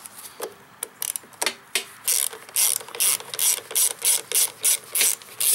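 A ratchet wrench loosens corroded carburetor bolts on a Briggs & Stratton 725EXi engine of a Snapper SP60 mower. It makes close, crisp clicking in uneven bursts, first sparse and then a faster run of rhythmic ratcheting strokes.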